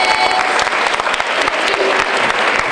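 Audience applause for the poets at a high school poetry slam, a dense, steady clapping from a crowd that holds at full strength for the whole stretch, close and loud.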